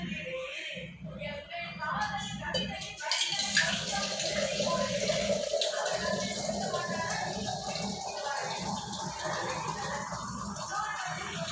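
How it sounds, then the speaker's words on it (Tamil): Water is poured into a cooking pot holding peeled mango, a quiet, continuous splashing trickle that runs steadily in the background. "சும்மா கொஞ்சமாக தண்ணி விட்டுக்குவோம்."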